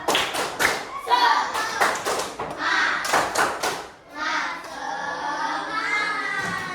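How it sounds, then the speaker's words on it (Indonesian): A class performing a rhythmic group clapping routine, sharp bursts of many hands in a patterned beat with children's voices chanting along, then settling into lively chatter. "Coba tepuk semangat dulu. Tepuk semangat."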